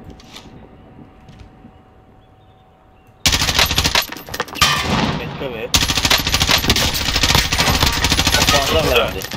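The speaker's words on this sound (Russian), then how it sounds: "по мне стреляют!" Automatic gunfire in a Call of Duty Warzone battle royale match comes in loud, dense rapid bursts after a quieter opening with faint sounds, with only a short break between two long volleys.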